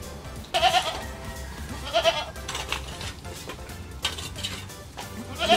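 Several native goats on a farm bleat in repeated wavering calls, fairly near, with faint clinking of metal like pans in the background.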